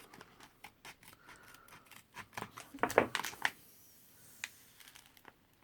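Scissors snip through a US military cold weather meal pouch of spaghetti with meat sauce in a cluster of close, crisp cuts, mixed with crinkling of the packaging.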